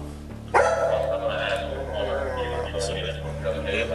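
A police dog barks during a standoff at a house as officers order a suspect out, the barking loud and close under steady talk and radio chatter.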